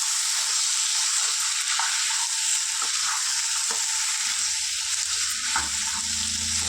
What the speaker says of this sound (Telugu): ఇలా ఒక ఫైవ్ మినిట్స్ ఇలా ఫ్రై చేసుకున్నా ఫ్రెండ్స్